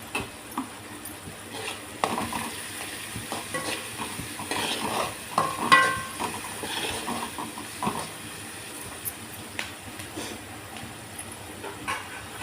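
Onion and green chili sautéing in a pan for an egg stir-fry, a soft, steady sizzle with scattered spoon scrapes and light clinks, close by and fairly quiet, with no voices.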